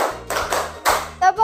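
A group of students claps hands in a classroom rhythm game, a few sharp claps under a teacher's counting voice, close and fairly loud.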